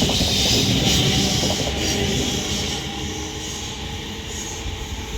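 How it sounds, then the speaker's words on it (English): A British Rail Class 350 electric multiple unit, a London North Western Railway service made up of two paired 350/2 sets, departs Lichfield Trent Valley with a loud, steady rumble and whine that slowly eases as it pulls away. "350-266 is off now, with the delayed 1349 London North Western Railway service to London Euston from Crewe."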